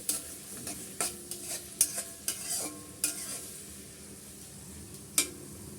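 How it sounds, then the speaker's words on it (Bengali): Chopped onions frying slowly in oil over low heat for beresta, a soft steady sizzle with intermittent stirring scrapes and clinks, close and moderately quiet, no talking. "আমি অল্প জালে পেঁয়াজটা বেরেস্তা করে নিচ্ছি"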